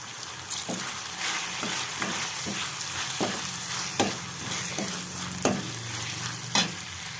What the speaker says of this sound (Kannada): ಹೀಗೆ ಚೆನ್ನಾಗಿ ರೋಸ್ಟ್ ಆದಮೇಲೆ ನಾನು ನುಗ್ಗೆ ಸೊಪ್ಪನ್ನ ಆ್ಯಡ್ ಮಾಡ್ಕೊತಾ ಇದ್ದೀನಿ ಇದನ್ನ ಚೆನ್ನಾಗಿ ಹುರಿಬೇಕು ಈಗ